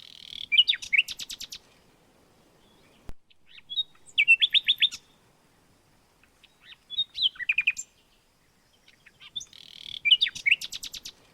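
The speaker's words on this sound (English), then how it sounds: "So the nightingale sang to the oak tree, and her voice was like water bubbling from a silver jar." A nightingale sings in a story sound effect, four separate bursts of rapid, bright trills and whistles with quiet gaps between them, clear and close with no voices.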